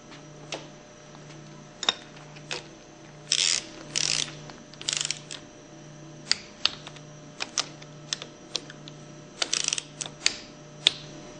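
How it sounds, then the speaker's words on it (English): A torque wrench tightens the end cover bolts on a Hypro 2400 Series Powerline Plus plunger pump, giving sharp repeated ratchet clicks in short bursts and single ticks over a faint steady hum. "Reinstall the end cover bolts and torque them between 100 and 110 inch pounds."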